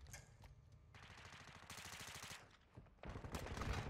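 Rapid, sustained light machine gun bursts in a video game firefight, loud and close, with brief pauses between long strings of shots and no talking.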